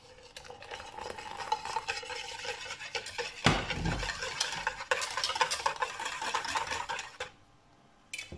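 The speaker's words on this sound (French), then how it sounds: "Vous allez venir verser une partie de votre lait." Hot boiled milk poured and stirred into a mixture in a bowl for Berlin doughnut batter, a steady wet swirling and scraping with a louder splash partway through, close and continuous, no voices.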